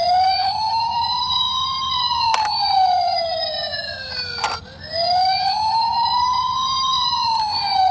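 A toy fire ladder truck plays its electronic siren, a loud wailing tone sweeping up and down in repeated cycles with a brief dip partway through, close and alone.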